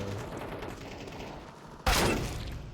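Gunfire in a first-person shooter video game striking the player, a low rumbling patter of shots followed by a sudden loud burst of impacts near the end.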